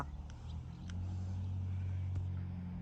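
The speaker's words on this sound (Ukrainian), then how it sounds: "там гуде машина" A steady low car engine hum drones in the background by a garden, rising slightly and holding even, fairly distant with faint clicks and rustles over it.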